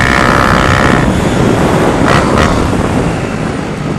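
A Honda Fan 150 motorcycle fitted with a Gemoto Racing exhaust and a 4 mm kit runs loudly nearby, a dense throaty exhaust roar with a brief rev near the middle and no talk.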